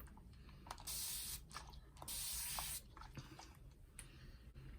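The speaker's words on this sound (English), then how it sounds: "This is my makeup setting spray that I made." Two long bursts of fine hissing homemade makeup setting spray onto a face, each about a second, close up, with small clicks and handling noises in between.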